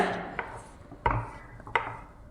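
Scissors cut through canvas fabric for a blouse neck, making three crisp, close snips spaced apart, with a soft rubbing of cloth between them.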